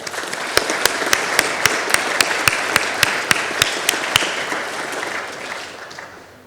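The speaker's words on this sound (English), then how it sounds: "please join me in welcoming Dr. Nathan Ross with a warm round of applause" Audience applause welcoming Dr. Nathan Ross at a Human Rights Day seminar: a steady wash of clapping with a few sharp, regularly spaced louder claps standing out, fading slightly toward the end.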